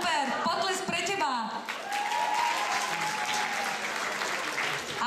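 Audience applause at a school beauty pageant (Miss SZŠ Zvolen 2015), swelling into steady, dense clapping that fills the room, with a host's voice talking over the start.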